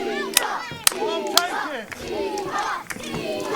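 A wrestling crowd at a UKPW match shouts and cheers in rhythmic bursts, punctuated by several sharp thuds and claps from the ring, loud and close.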